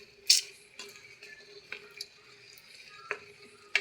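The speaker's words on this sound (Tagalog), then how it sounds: "Yan, hinalo ko siya para ay mahalo yung ating nilagay na panimpla." A spoon stirs cabbage and pork chicharon in a pan, with soft scrapes and a few sharp clinks over a quiet sizzle.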